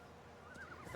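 A faint, brief horse whinny rises over a steady, muffled background of Farming Simulator 19 game ambience.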